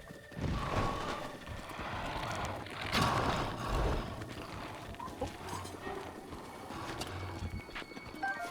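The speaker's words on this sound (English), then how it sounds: "Alright, that's our horse, chat." A horse in a Legend of Zelda video game clip-clops along with a steady, moderately loud patter of hoofbeats over continuous ambient game sound.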